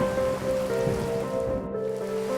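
Steady rain pours down in a children's cartoon, a constant even patter heard alone without any voices.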